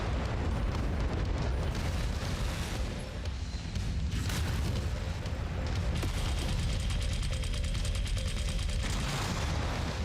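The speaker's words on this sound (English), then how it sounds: "We're way too far out of range to even hit with our machine guns here, but not with our missiles." Missiles fire at enemy mechs in the MechWarrior 5 video game, giving a dense, continuous wash of mechanical clatter and rumbling booms that runs loud and steady throughout, with a brief dip in intensity partway through and no talking.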